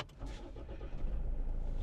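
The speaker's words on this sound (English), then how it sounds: "and the diesel engine fires up." An old diesel Land Rover with a stop-start button and automatic gearbox cranks and catches, settling into a steady low, rumbling idle close by.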